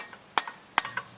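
A brass hammer strikes metal on a John Deere 4230 tractor during an oil leak repair, with two sharp, ringing blows about 0.4 seconds apart and a lighter tap after them.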